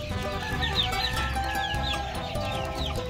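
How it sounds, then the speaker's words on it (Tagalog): White leghorn chickens clucking in a pen, a steady chorus of overlapping clucks and squawks from several birds close by, with no talk. "So yan yung mga white leghorn natin."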